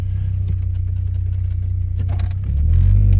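A turbocharged Golf GTI with a custom exhaust rumbles with a steady, deep engine drone that swells louder and heavier near the end as it accelerates, heard from inside the car without talk.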